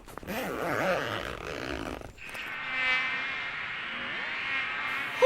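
Buzzing insects whine close by, a thin wavering drone that shifts in pitch, after a brief rustling at the start.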